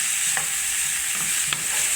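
Vegetables sautéing in olive oil for pizza, a steady close sizzle with a few soft stirring scrapes of a utensil in the pan, no voices.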